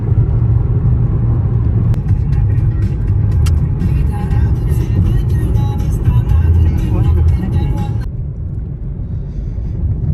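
A 2013 Toyota Allion driving on a road, steady loud engine and tyre rumble from inside the car, with a clattering patch midway before settling back to the plain drone.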